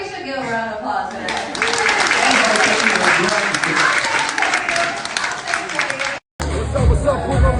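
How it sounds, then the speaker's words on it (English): A dense crowd applauds and cheers at a concert at Madison Square Garden, loud and sustained for several seconds before a sudden cut, then a voice speaks over lingering crowd noise. "I feel like we should give a round of applause for that."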